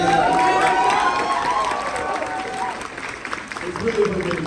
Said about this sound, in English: can we get a round of applause for Rachel?